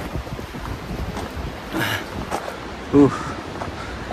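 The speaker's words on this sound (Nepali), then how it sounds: "डेन्जर हावा चलिरहेको साथीहरू।" Strong wind buffets the microphone with a steady rushing roar, and a voice talks faintly beneath it.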